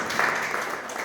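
Clapping from an audience at an alumni meeting in Patan, a brief steady burst of applause heard at moderate distance.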